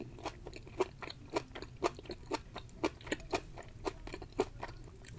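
Close-up crunchy chewing of raw vegetables with Hainan chicken and egg noodles, a steady rhythm of about two crisp bites per second, loud against a quiet background.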